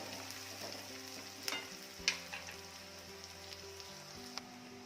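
Onion being sautéed with a pinch of salt in a pan while cooking tandalichi bhaji, a soft steady sizzle with a few sharp utensil clicks and scrapes, fairly quiet and close, no talking.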